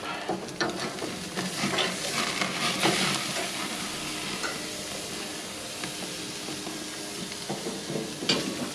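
Meat searing in oil in a pan, a close, crackling sizzle with irregular pops and spatters, louder at first and then settling into a steadier fry.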